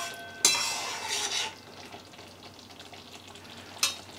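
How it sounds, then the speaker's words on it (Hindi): Homemade amla hair oil stirred in a pan with a spatula over a low flame, bringing two sharp scrapes against the metal, one at the start and one near the end, over a soft continuous sizzle, close and alone without speech. "1-2 मिनट में हम इस तरीके से स्पैचुला से चलाते रहेंगे"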